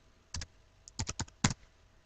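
Keys clatter on a computer keyboard as a search term is typed into a spreadsheet program, a quiet burst of about eight close clicks with one short pause.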